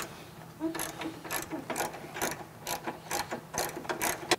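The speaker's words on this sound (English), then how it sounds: "Go ahead and remove those nuts now. They require an 18 millimeter socket to do so." A ratchet with an 18 mm socket removes front bumper nuts on a Jeep Wrangler JL, giving quick bursts of close metallic clicking in an uneven rhythm, with no talk.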